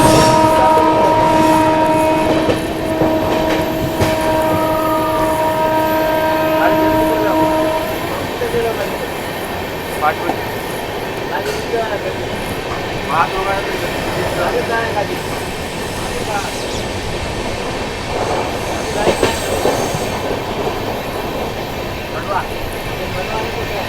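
The Marathwada Sampark Kranti Express runs at speed past Khandwa Junction without stopping. A long horn sounds for the first several seconds, then a steady loud rumble continues with rhythmic wheel clatter on the rails.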